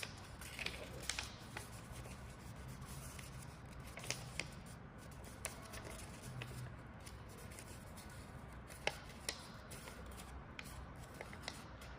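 Paper being creased into a preliminary fold for an origami orb, soft continuous rustling and crinkling with small sharp crackles, close and quiet, no speech.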